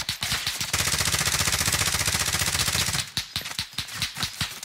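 Sustained automatic rifle fire in Call of Duty Warzone, a loud, continuous rapid burst lasting a couple of seconds, followed by several more spaced shots and impacts nearby.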